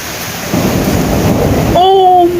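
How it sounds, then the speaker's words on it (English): Thunder rumbles loudly through a rainstorm, a low, broad roll that swells after the first half-second and keeps going under steady rain noise, with a brief tonal whine near the end. "I heard that thunder."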